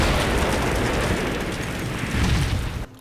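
Artillery shells bursting in the war game Combat Mission Black Sea, a dense, continuous roar of overlapping blasts that stays loud throughout before cutting off abruptly near the end.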